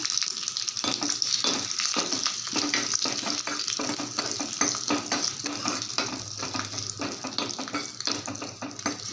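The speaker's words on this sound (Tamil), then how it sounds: "நல்லா பொரிய ஆரம்பிக்குது கொஞ்சமாக ஜீரகம் போட்டுக்கலாம்" Cumin seeds and slit green chillies fry in hot oil, a close, bright continuous sizzle broken by repeated scraping clicks of a stirring spoon against the pan.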